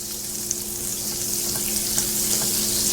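Butter sizzling and frying steadily in a hot pan for an omelette, a constant close hiss with faint crackles and no talk.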